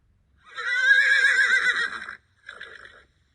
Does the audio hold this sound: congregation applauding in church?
no